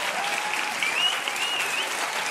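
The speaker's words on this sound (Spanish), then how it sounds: "Un fuerte aplauso para ellos." A dense burst of audience applause, steady and full, with a few whistles and cheers rising above the clapping.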